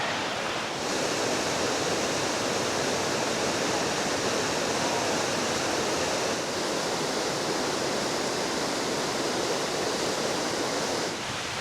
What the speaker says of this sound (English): first waterfall of the adventure already